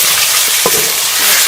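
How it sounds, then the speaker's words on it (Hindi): Beef sizzles and fries with onions, garlic and ginger paste in a karahi, a steady close hiss with a brief stirring scrape, no talking. "इसे भी हम प्याज के साथ भून लेंगे।"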